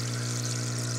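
A BluOx water oxygenator runs with its top off, a steady, loud wash of fine bubbling and churning water over a constant low electrical hum, unbroken for the whole second.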